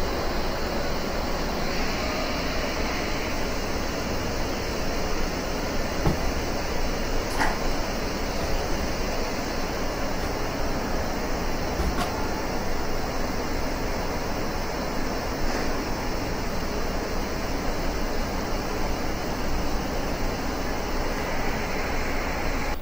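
An air dryer for an air compressor runs steadily after being switched on, giving a continuous broadband hiss and hum at an even level throughout, with a few faint clicks and no talking.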